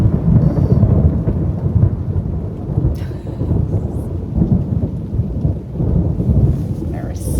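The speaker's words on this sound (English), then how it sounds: "there was another lightning." Deep thunder rumbles and rolls continuously during a severe thunderstorm on the Appalachian Trail, heavy and close, with rain hissing underneath and a few brief brighter crackles.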